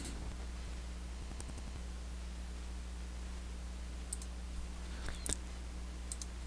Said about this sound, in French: on clique sur Ajouter une image